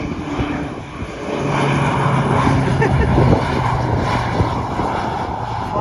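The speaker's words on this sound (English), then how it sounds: "Is it me or is this seaplane coming right for me?" A seaplane flies past over the Mallorca coast, its propeller engine droning steadily and growing louder as it nears, a sustained buzzing hum filling the air with some wind and background noise.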